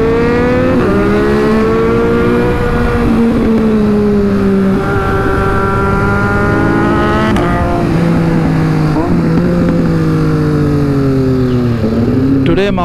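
A Ducati Monster 821 and a Triumph 765 S ride together, with loud, continuous engine drone that rises and falls through gear changes, heard close up over wind noise.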